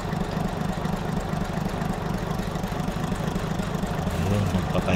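A Mitsubishi 6D16 diesel engine with a rough, misfiring, smoky condition runs steadily at idle, a loud continuous low rumble and knock close by as the cylinders are checked one at a time.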